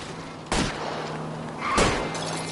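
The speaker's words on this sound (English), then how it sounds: "I'll try to shoot out his tires." Gunfire rings out during a car chase in the video game L.A. Noire, with two sharp, loud reports about a second apart over steady engine and road rumble and no talking.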